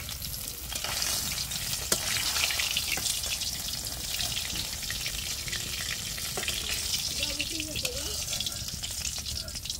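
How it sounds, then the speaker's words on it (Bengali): Fish fries in a pan with a dense, constant crackling sizzle close by, occasional clatters and taps over the top, steady throughout. "এই তো আমার মাছ ভাজাটা হলো শেষ এরপরে হলো ভাজা নিলাম মাছ"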